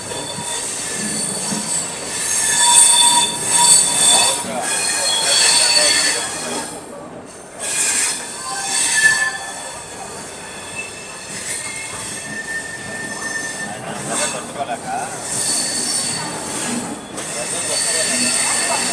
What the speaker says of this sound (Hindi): विशाखापट्टनम कोल्लम एक्सप्रेस तो काफ़ी अच्छी स्पीड से निकल गई